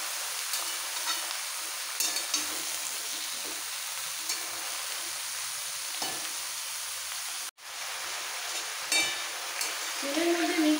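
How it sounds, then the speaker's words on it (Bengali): Boiled taro, cauliflower and banana stem for labra are stirred into hot oil in a pan, giving a continuous loud frying hiss with periodic scraping strokes and a brief dropout midway. "এবার তেলের মধ্যে সমস্ত সবজি একটু মিক্স করে ফেলবো"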